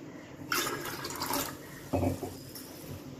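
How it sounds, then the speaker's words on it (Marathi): Water pours into a bowl while making crispy besan shev, a steady splashing stream for about a second, then a shorter, lower gurgling splash a moment later, fairly close. "दीड वाटी पाणी टाकून घेणार आहे"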